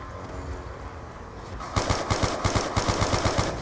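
Robot artillery barrage in the Black Ops 2 Origins zombies video game: after a low rumbling lead-in, a steady series of about a dozen sharp, evenly spaced heavy blasts fires in quick succession, loud and close.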